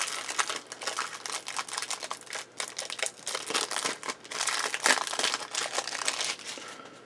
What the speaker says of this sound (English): Plastic wrap away.